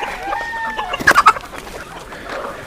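Chickens cluck in an open yard on a free-range poultry farm, with a short burst of sharper clucks near the middle and softer hen calls around it.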